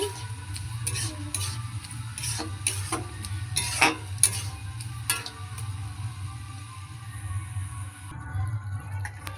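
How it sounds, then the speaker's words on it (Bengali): Cardamom and sugar get stirred in a pan, with a spoon scraping and ticking against the metal in irregular clinks over a low steady hum. "দেখতে পাচ্ছ বন্ধুরা, চিনিটা দিয়ে একটু নাড়াচাড়া করছি।"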